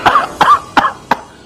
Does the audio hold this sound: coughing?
yes